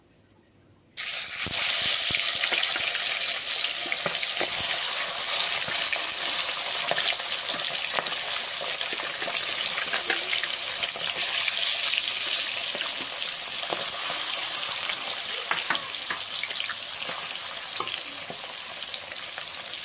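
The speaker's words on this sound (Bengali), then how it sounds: "আমি এবারে এর মধ্যে মাছের মাথাটা দিয়ে দিলাম।" A fish head drops into hot oil for a moong dal dish and bursts into a loud, steady, close sizzle after a second of quiet, crackling on without a break.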